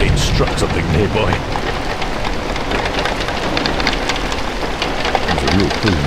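Heavy rain pours down steadily near the Port of Southampton, a loud dense hiss of drops on surfaces with low rumbling underneath that may be distant thunder. Speech can be heard under the rain.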